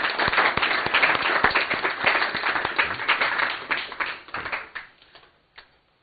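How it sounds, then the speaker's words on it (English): Workshop audience clapping at the close of a session, dense and lively at first, then thinning into scattered claps that die away, with one last lone clap near the end. "So big round of applause for Mark Turner."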